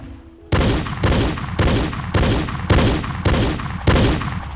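Seven loud, evenly spaced gunshots ring out from a Roblox FE Gun Kit weapon in a video game, each sharp blast decaying into the next after a brief quiet start.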